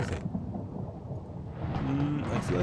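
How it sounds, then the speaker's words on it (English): Rain and a rumbling thunderstorm in the space survival game Space Astronomy 2, a steady broadband wash with low rolls of thunder throughout, thickening slightly toward the end with some faint mechanical tones. "Oh, I hear rain."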